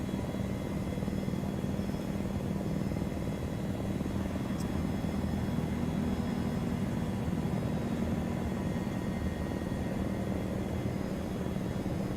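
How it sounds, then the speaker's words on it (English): An in-game helicopter in a Combined Arms military mission drones continuously, a steady, close rotor and engine hum with a faint brief click partway through. "I can't fly this helicopter as well as I can the Black Hawk because it is super sluggish."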